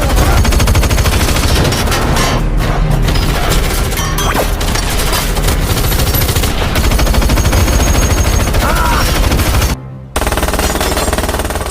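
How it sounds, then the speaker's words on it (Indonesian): Loud, sustained gunfire from a 2021 Indonesian robbery film scene: dense bursts of automatic shots and impacts crackle without pause for about ten seconds, with a brief drop near the end. "Hill cukup kewalahan dan mendapat tembakan dari Bullet yang membuatnya tak berdaya."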